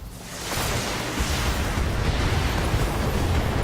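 Mech weapons fire together in an alpha strike in the BattleTech video game, a loud roaring barrage that swells after a brief lead-in and rumbles on continuously with explosive booms.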